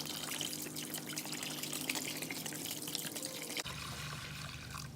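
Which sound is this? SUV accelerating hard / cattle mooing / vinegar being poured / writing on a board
vinegar being poured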